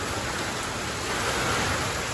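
Steady rain hiss fills the whole clip, a constant broadband wash with no pauses or voices.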